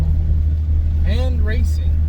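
A car engine hums in a steady, loud, low drone while shifting into third gear. A person speaks briefly over it.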